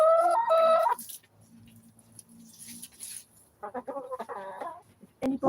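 Backyard hens cluck in short bursts near the microphone, with quieter gaps and a few scattered calls in between.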